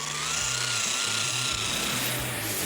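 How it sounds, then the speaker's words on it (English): A small angle grinder works steadily on classic Camaro body panels during prep, a continuous close whining drone with slight pitch wavering and a rough grinding texture throughout. "We're still going to use the lacquer and the little angle grinder there."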